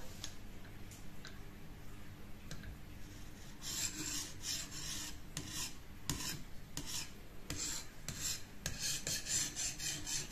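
Knife blade being sharpened on a TSPROF Kadet Pro guided sharpener, a steady rasping abrasive scrape that grows louder and busier partway through, with repeated strokes and light ticking.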